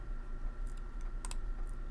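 Short bursts of light clicking keystrokes on a computer keyboard, quiet and close, as text is typed into a spreadsheet field. No talking over it.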